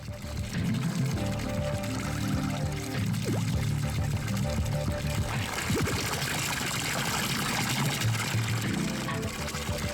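A waterfall in the video game Hypnagogia rushes and pours continuously, a broad steady wash of water that holds at an even loudness throughout alongside low tonal game ambience.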